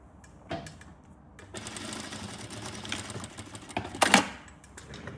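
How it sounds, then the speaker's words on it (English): A Jack F6 direct-drive industrial lockstitch sewing machine runs for a few seconds with a close, even mechanical whir, framed by sharp clicks and a louder clack near the end. "We'll now give you a small demonstration of how this machine sews."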